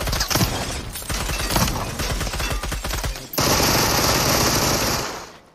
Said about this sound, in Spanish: Y con la Machine Gun, creo que es esa, ¿no?